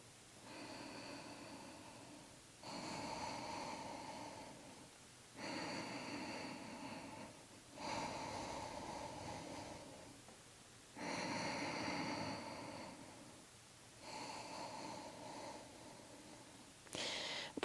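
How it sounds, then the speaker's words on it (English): Slow, deep breaths during a yoga cat stretch, each inhale and exhale heard close and soft in a steady rhythm of about six breath cycles with brief pauses between. "Take a few breaths here."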